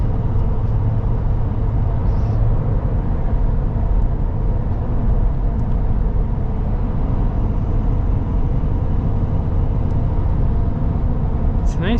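Steady low road rumble and tire drone from mud terrain tires on a Shelby Super Baja diesel Raptor, a continuous even roar from inside the cabin with no letup.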